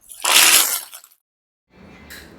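Curry leaves drop into hot oil for an eggplant curry, letting out a loud, sharp crackling sizzle that quickly dies away, followed by a quieter sputtering sizzle after a short pause.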